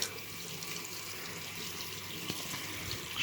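Tap water runs in a steady, soft stream as an item is rinsed under the faucet, heard faintly and alone with no talking.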